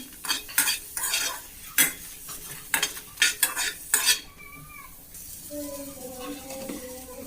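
Onion and five or six dry red chilies fry in a pan for spicy Mandya-style pulao while a spoon stirs and scrapes in bursts, with clinking metal, then a softer sizzle and a few squeaky tones near the end.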